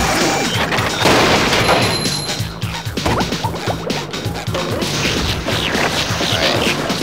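Explosions and smashing from the SpongeBob SquarePants: Battle for Bikini Bottom video game on the Sand Mountain level: a dense run of loud crashes and booming hits with rapid impacts, no talking over them.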